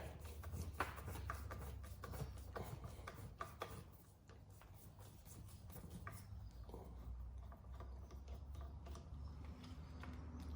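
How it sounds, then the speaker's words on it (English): A front action screw being unscrewed from a HOWA 300 Blackout rifle stock, giving soft, close rubbing and ratcheting scrapes in a steady run, with a low hum underneath and no talk. "remove that action screw, front action screw"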